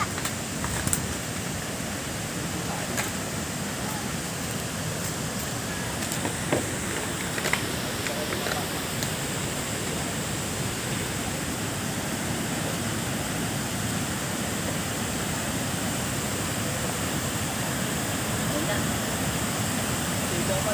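Steady rushing river water at Tala River Park, a dense, continuous wash of flow that stays even throughout, with faint voices mixed in.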